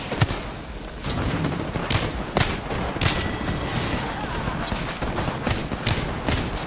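Gunfire in the video game Apex Legends rattles in repeated sharp bursts and single shots, loud and dense across the whole stretch.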